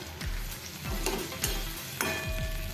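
A spoon stirs onion, potato and poha mixture with added water in a hot pan, giving a few evenly spaced scraping strokes over a steady close sizzle, with no talk.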